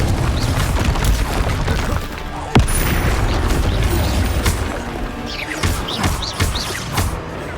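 Spell explosions from the Confringo curse in Hogwarts Legacy on Xbox Series X: dense, loud booming blasts and crashes over continuous game combat noise, with a sharp impact near the middle and several quick bursts toward the end.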